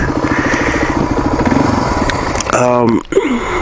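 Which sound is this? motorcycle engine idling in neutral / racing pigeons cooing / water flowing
motorcycle engine idling in neutral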